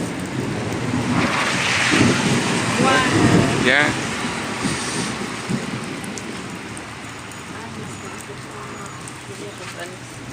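Thunder rolls through a rainstorm as steady rain patters on surfaces, with louder rumbling swells early on that fade into continuous rainfall; a person speaks briefly nearby.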